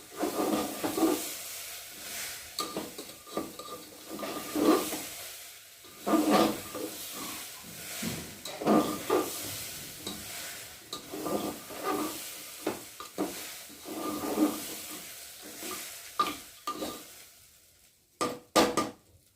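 Khichuri tempering with dried red chillies and green chillies being stirred in a hot pan: a steady sizzle broken by repeated scraping strokes of a spoon against the metal, ending with a few sharp knocks.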